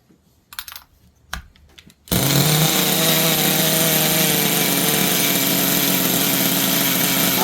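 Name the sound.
old Duratrax Maximum ST nitro RC truck engine cranking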